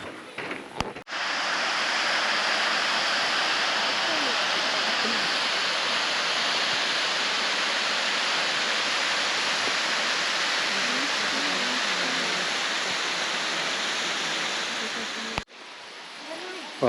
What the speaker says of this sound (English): It's supposed to be 25 metres high, the waterfall.